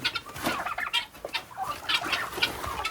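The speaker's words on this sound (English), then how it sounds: "All right, got some turkeys. Turkeys are getting big." Turkeys in a farm pen gobble and cluck in quick, overlapping bursts, a busy flock close by with no talking.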